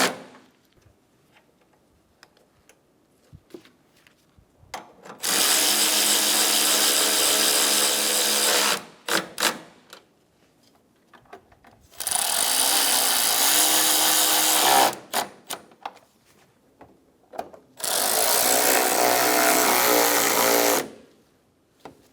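A power tool drives headlight screws on a Chevrolet Sonic in three long, loud whirring bursts of about three seconds each, separated by quiet gaps with small handling clicks.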